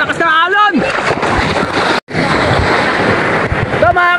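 Strong ocean waves crash and surge continuously on the shore at Tangalan, a loud rushing wash mixed with gusting wind, while excited voices shout and cheer over it.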